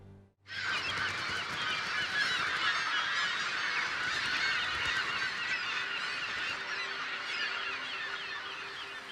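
A dense flock of migrating geese honks continuously at Jinzhou Bay, Dalian, many overlapping calls forming a loud, steady chorus that runs without a break after a brief quiet start.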